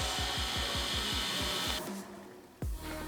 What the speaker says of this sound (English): we're gonna go ahead and cut some grooves so that our plywood can go ahead and fit inside of there.